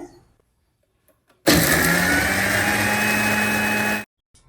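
A kitchen mixer grinder coarsely grinds drained soaked batter ingredients, whirring loud and steady for about two and a half seconds before stopping abruptly, with near silence before and after.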